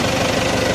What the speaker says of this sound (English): I have to leave the motor run because it's cold and I'm trying to let it warm up.